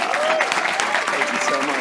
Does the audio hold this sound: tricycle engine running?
no